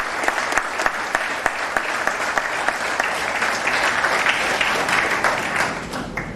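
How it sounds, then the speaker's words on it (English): Loud, sustained applause from an audience, dense overlapping claps with a few sharper close claps standing out, continuing throughout. "let's all give us a big round of applause for all the people who actively participated"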